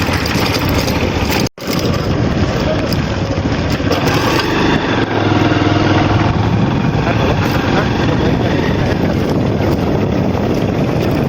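Motorcycle engine while riding, a steady broadband drone with road and wind rush that runs almost unbroken for the whole stretch, with a brief dropout near the start and muffled voices mixed in.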